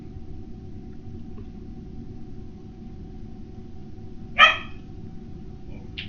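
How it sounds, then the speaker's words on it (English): A single short dog bark rings out in the distance over a steady low background hum. "There you can hear my dog in the background."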